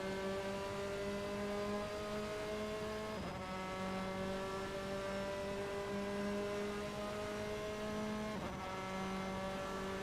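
Formula race cars in a sim racing game at Barbagaloo Raceway, with engine whines holding steady tones and briefly dipping at gear shifts, loud and continuous with no talk.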